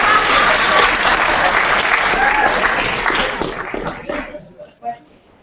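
Parents at an orientation for incoming sixth graders break into loud, dense applause that fills the room, then tapers off over the last second or two into a few scattered claps.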